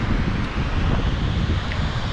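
Steady wind roar mixed with crashing surf at Chandrabhaga beach in Puri, Odisha, a loud, continuous wash of noise that fills the whole stretch without pause.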